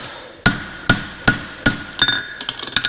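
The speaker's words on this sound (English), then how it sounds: "Overlap on hammer blows." Hammer strikes ring out on an anvil as a farrier forges a horseshoe: five loud, evenly spaced metallic blows, each with a bright ringing tail, followed by a quicker burst of lighter taps.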